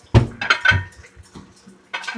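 Metal pots and vessels clattering in a home kitchen during a search for a lid, a few sharp clanks close by, then a pause before another clink.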